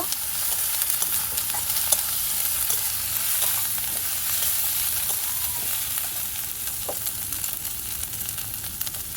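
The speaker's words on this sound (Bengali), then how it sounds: "দিয়ে দেবো ধনে জিরে গুঁড়ো 2 চামচ। খুব ভালো করে কষিয়ে নেব।" Coriander and cumin powder sautéing in a pan for a village-style rohu fish curry with potatoes, a steady close sizzle with scattered scrapes of stirring, no talk.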